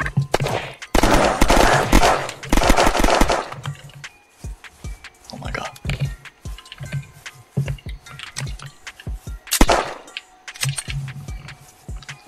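Rapid bursts of gunfire in the zombie survival game Unturned, a loud dense volley at first, then scattered sharp shots and clicks mixed with talking voices, plus one more loud blast near the end.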